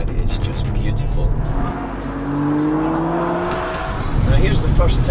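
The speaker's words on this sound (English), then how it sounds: "Now when you hear that downshifting" A car engine blipping through downshifts, rising and falling revs in quick succession with a loud close roar, while a voice talks over it.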